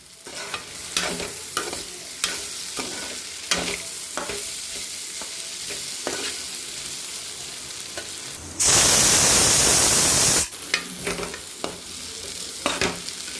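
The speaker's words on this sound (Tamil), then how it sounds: "கிளறி விட்டுக்கலாம். இதில் 2 புதினாவை போட்டுக்கலாம்." Food frying in a pan with mint added is stirred with repeated sharp scrapes over a steady sizzle, and a loud burst of hissing spatter dominates for about two seconds in the middle, close up with no talk.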